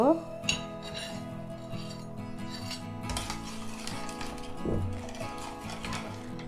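A spoon stirring tamarind sauce with chili flakes, chopped chili, salt, black salt and chaat masala in a bowl, producing close clinks and scrapes against the bowl under a faint background voice.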